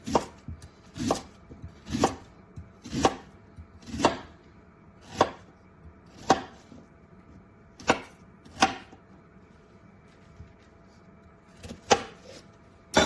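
Ginger being chopped for ginger paste, a steady series of about fifteen crisp knife strikes against a board, close and distinct, with a brief gap partway through.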